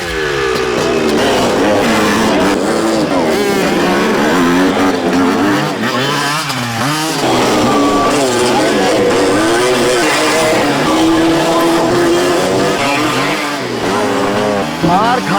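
Motorcycles at a biker stunt school, engines roaring and revving loudly with rising and falling pitch sweeps, several machines overlapping continuously up close.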